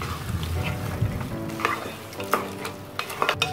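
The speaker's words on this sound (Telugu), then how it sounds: "ఈ మటన్ని వేసుకొని మనం బాగా మిక్స్ చేసుకోవాలి." Mutton pieces for a spicy mutton masala sizzle in a pan as a spatula stirs them, with close scraping strokes and sharp metallic clinks over a continuous frying hiss.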